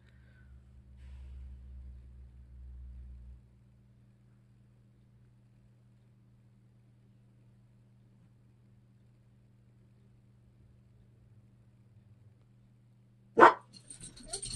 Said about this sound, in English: Excited dog.